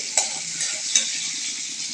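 Chopped beans and potatoes frying in hot oil with onion and capsicum, a steady bright sizzle with a couple of sharp stirring clinks near the start, close and fairly loud, no talking.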